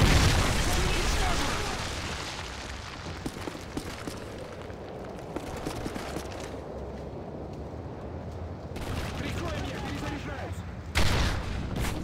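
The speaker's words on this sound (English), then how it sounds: "Friendly Predator missile inbound." A Predator missile strike explodes in Modern Warfare 3 multiplayer, a heavy loud boom at the start that rumbles and decays into ongoing gunfire crackle and scattered shots, with a sharp burst again near the end.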